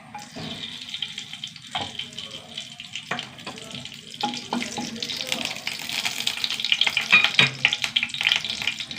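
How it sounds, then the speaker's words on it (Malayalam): Whole spices (cardamom, a small piece of cinnamon and two cloves) fry in hot oil with a steady hiss and sizzle, broken by a few sharp clicks of utensils, growing slightly louder toward the end. "എണ്ണ ചൂടാവട്ടെ ഏലക്കാട്ട ഒരു ചെറിയ കഷ്ണം പട്ട രണ്ട് ഗ്രാമ്പു"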